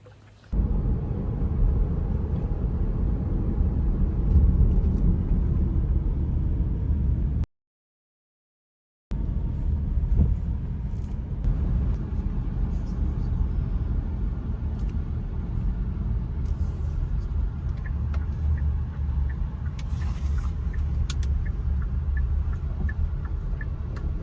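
A car drives steadily on a road in Florida, its low engine and tyre rumble continuous and close, with a brief total dropout midway and faint ticking near the end.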